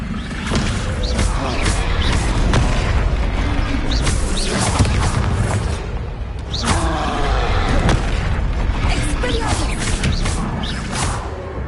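A Descendo spell slam in the video game Hogwarts Legacy, a series of loud booming crashes and whooshes repeating through a dense, noisy fight, each heavy thud landing close and forceful.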